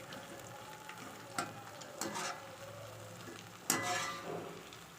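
Egg frying in a pan, a soft, steady sizzle under a few sharp clangs and scrapes of a utensil against the pan, with no talking.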